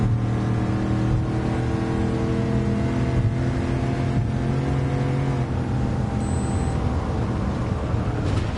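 A Chevrolet Camaro's engine drones steadily in Gran Turismo 7, a loud, sustained tone shifting in pitch as the car is driven hard, close and alone with no talk.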